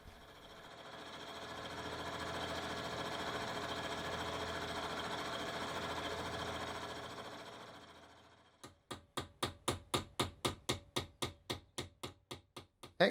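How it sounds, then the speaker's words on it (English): A machine cuts shotgun barrel lumps to fit the action body in a London gunmaker's workshop: a steady whirring drone swells and fades, then gives way to a rapid, regular train of sharp mechanical knocks. "the action filer, who then machines the barrel lumps to suit the action body"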